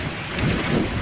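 Steady rain falls with a dense, even hiss, and a low rumble swells through the middle of the short stretch.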